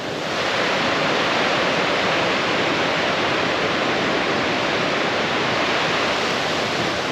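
Swift water of the Metolius River in Oregon, downriver from the lower bridge campground, rushing as a loud, steady, unbroken roar close by.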